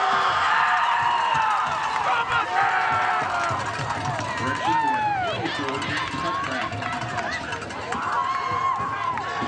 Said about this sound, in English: this is an amazing crowd for this game, but what's most impressive is the student section. They are loud